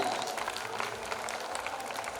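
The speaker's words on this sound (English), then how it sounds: "Give a big round of applause for all of them" Applause from an audience at a Pujo programme in Avani Oxford for a group of brides, a faint, steady wash of clapping that holds evenly across the whole stretch.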